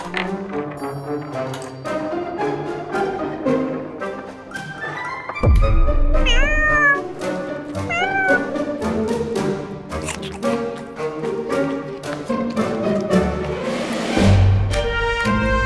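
Cats meowing over a busy, loud music backing, with high, wavering mews standing out at intervals through the mix.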